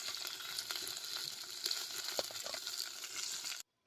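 Green chili and garlic sizzling together in hot oil, a steady bright crackle with small pops, loud and close, cutting off abruptly near the end.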